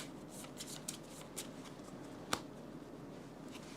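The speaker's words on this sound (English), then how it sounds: "we're shuffling the shadow discard and adding it to the top of the pile." Playing cards being shuffled at a table during a Fate of the Fellowship board game: a soft continuous riffle and rustle with a few light taps and one sharp snap, close and quiet, with no talking.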